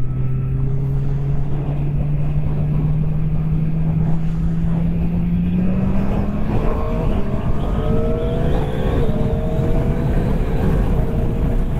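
A QJMotor SRK 921 RR 2025 superbike accelerating hard in sport mode, its engine note climbing steadily through quickshifted gears, loud and close throughout with wind rush.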